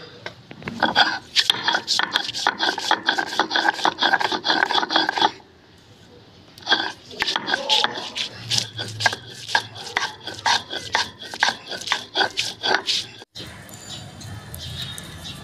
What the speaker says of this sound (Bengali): দেখুন কচুটা কেটে ধুয়ে নিয়ে এসেছি, এবার বাটার পালা।